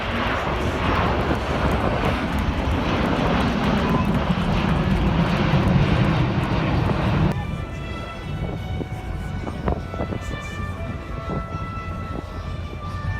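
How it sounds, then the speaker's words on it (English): An Airbus A380 climbs steeply on takeoff at an air show in Slovakia, its engines giving a loud, continuous roar that suddenly drops to a thinner, quieter rumble partway through. "This Airbus A380 was taking off in a dangerously steep climb"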